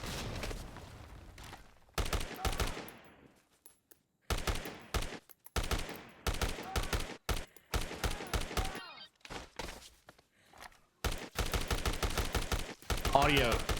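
Gunfire in the zombie action game Dead Rising Remaster comes in short, choppy bursts separated by sudden silent gaps, loud and close, as though the sound cuts in and out.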